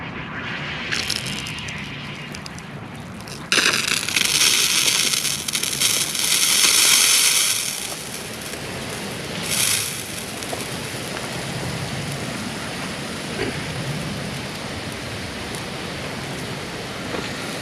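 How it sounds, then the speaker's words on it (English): Gear-driven pop-up sprinkler heads spray water across a lawn in a steady hiss, with a louder surge of spray partway through; no voices. "I'm going to turn on the sprinklers, and I'm going to see how good they're aimed."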